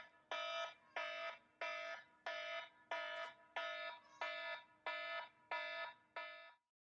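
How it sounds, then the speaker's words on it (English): An alarm sounds in ten regular, evenly spaced electronic bursts of about half a second each, loud and steady with no talking, then cuts off abruptly. "And there's my alarm."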